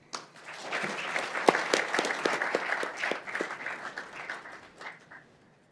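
Audience applause welcomes lecturer Ellen Armour to a social media and social justice talk: steady clapping from a roomful of people swells quickly, holds for several seconds, then fades out.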